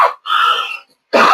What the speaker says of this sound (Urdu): کھانسی لگی، پانی پی رہے ساتھ